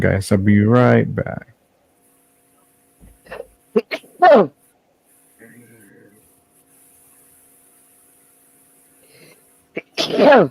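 A single sharp sneeze bursts out at the start, followed by short murmured speech, a quiet pause with faint rustling, and a brief voice again at the end.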